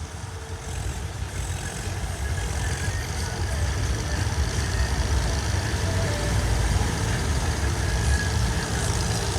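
A tractor engine idles steadily in sandy soil, a continuous low, rumbling drone that holds at an even level throughout with no breaks.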